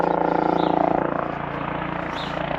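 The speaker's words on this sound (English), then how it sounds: "Got a helicopter flying about, really, really low." A military helicopter passes very low overhead, its steady rotor thump and engine drone holding loud and close throughout, with no talk over it.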